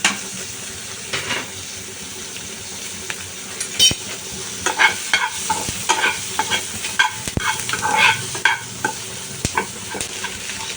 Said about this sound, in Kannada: ಸೊ ಇಲ್ಲಿ ಆನಿಯನ್ ಮತ್ತು ಕ್ಯಾಪ್ಸಿಕಮ್ನ ಫ್ರೈ ಮಾಡ್ಕೊತಾ ಇದ್ದೀನಿ